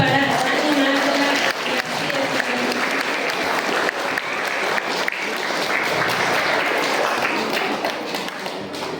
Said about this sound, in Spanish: La recibimos con fuertes aplausos también para animarla.